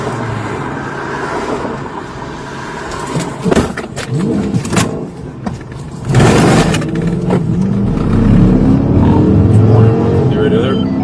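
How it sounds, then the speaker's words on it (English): During a police traffic stop, a car engine revs up and roars as the vehicle speeds away, the loud acceleration building steadily after sharp clunks and radio noise, with people talking. "the vehicle takes off"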